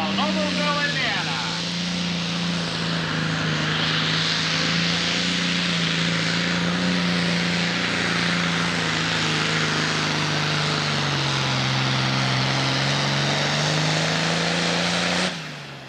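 A Case tractor at a 1993 Sandwich, Illinois pull in the 10,000 or 12,000 lb class roars loudly and steadily for about fifteen seconds, its heavy droning engine note holding constant before cutting off at the end.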